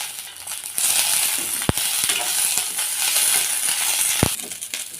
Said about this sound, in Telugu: మిర్చి వేగాక కరివేపాకు వేసుకోవాలండి